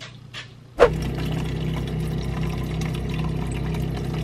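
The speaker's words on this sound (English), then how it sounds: "Just filled up my water bottle." Water pours steadily into a water bottle after a short click at about the one-second mark, making a continuous filling rush that holds at an even level until the end.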